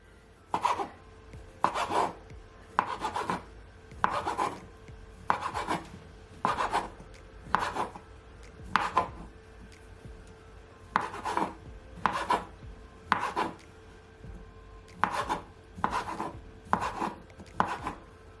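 A knife slices smoked sausage on a cutting board, about fifteen crisp rasping cuts in uneven bursts, close and clear with quiet pauses between strokes.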